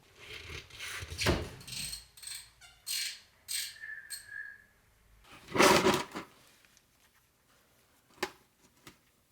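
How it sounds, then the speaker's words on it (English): A 15 mm socket ratchet loosens the oil drain plug on a Ford Bronco Sport, with bursts of rapid clicking close by, several separate runs of ratcheting and a few sharp metallic clacks near the end. "We're going to need a 15 millimeter socket."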